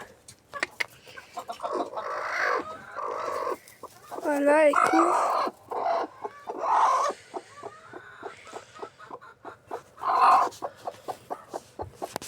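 A hen clucks and grumbles repeatedly in short, agitated bursts, close by, with a few calmer stretches and a person speaking briefly.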